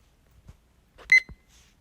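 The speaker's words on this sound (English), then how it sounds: "I'm going to start the timer now." Timer starting with a short electronic beep, a single clear bright tone with a few soft clicks around it in a quiet room.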